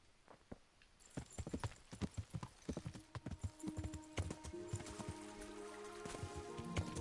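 Horse hooves clip-clop in the medieval video game Kingdom Come Deliverance, starting sparse and quiet, then settling into a steady, fairly close trotting rhythm against soft background music.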